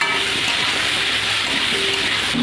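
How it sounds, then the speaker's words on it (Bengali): Pumpkin and potato pieces fry in a pan with chilli, salt and turmeric, giving off a steady, loud sizzling hiss close by, unbroken and without any talk. "ভেজে নেব।"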